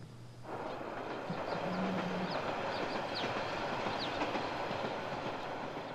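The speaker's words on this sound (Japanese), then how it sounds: "電線のない線路をディーゼル車が駆け抜けていきます" A diesel railcar, a KiHa 40, rumbles steadily along a rural track without overhead wires, wheels clacking over rail joints with a constant mechanical roar.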